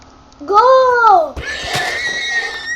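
A horse in the video game Minecraft lets out a loud, close whinny with a falling pitch. Other game sounds and a brief voice follow it.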